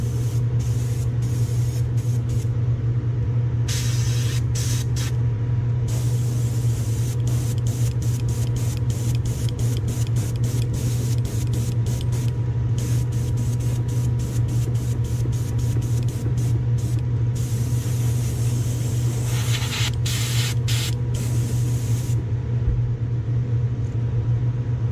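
An Iwata Eclipse airbrush converted to a 0.5 needle and nozzle sprays Createx candy paint onto a lure in short repeated hissing bursts over a steady low compressor hum, close and continuous throughout.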